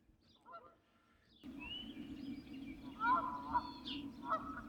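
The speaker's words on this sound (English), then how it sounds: "they're both looking for a place to nest, and they don't want another set of geese close to them" Geese looking for nesting spots honk on a homestead during an evening walk, with faint calls early and then louder, repeated honks building toward the end over a low background hum.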